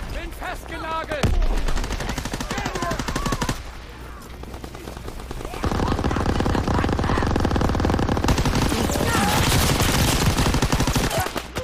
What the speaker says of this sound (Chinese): 干，机枪哪那么强